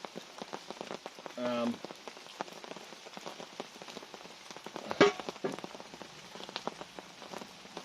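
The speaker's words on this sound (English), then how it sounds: "It's raining here at the moment, and that's why the fry pan's wet." Rain falls outdoors onto a wet frying pan and nearby surfaces, a dense patter of close individual drops with a few sharper taps and brief louder knocks mixed in.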